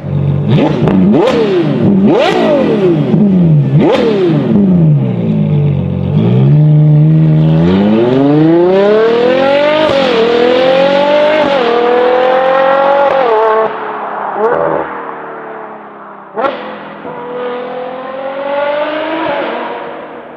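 A Ferrari Purosangue V12 engine with a Novitec flap-activated race exhaust screams through repeated sharp revs, then climbs through long rising sweeps with brief drops between gears, loud and close.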